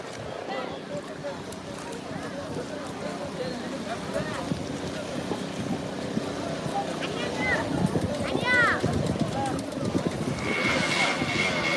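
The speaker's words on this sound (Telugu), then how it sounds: "కొత్త కొత్త బోట్లు వస్తున్నాయి చూడండి" Fishing boats arriving at sea, their engines a continuous low drone mixed with wind buffeting the microphone. People talk over it, and a few short high chirps sound near the end.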